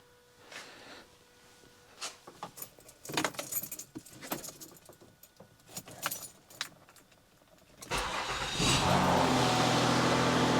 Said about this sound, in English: start the car up here.